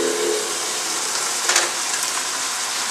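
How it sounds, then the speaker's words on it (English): Beef stir-fried in a pan of boiling ginger sauce gives a continuous loud hiss and sizzle, fairly close, with a brief surge of steamy bubbling midway. "We just want to stir fry this all together, get all the juices in there."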